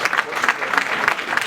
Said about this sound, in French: on s'applaudit encore une fois